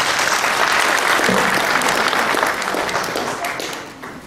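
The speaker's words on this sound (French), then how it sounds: "Donc des applaudissements encore une fois pour son ambassadeur." Loud, dense applause from an audience honouring the Ethiopian ambassador at a formal gathering. It fills the whole stretch, then fades slightly toward the end, with no talk over it.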